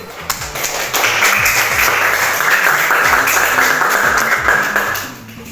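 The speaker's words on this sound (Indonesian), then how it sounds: "Tepuk tangan dulu." A classroom of children applauding together, a dense steady patter of many small hands clapping at once, loud and close, building quickly and then tapering off.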